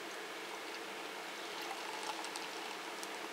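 Oatmeal espresso stout beer, poured quite dark into a glass, makes a steady, continuous liquid stream sound that holds at an even level throughout, with no voices.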